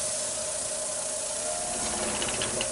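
A wood lathe spins a spalted hackberry blank at about 900 RPM, wobbling slightly, producing a constant airy whir with a faint steady tone, moderately close and uninterrupted.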